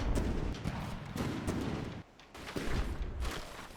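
Battleship guns fire in a naval combat game, a dense run of heavy booming salvos that roll into one another, loud and continuous with a brief dip before the barrage resumes.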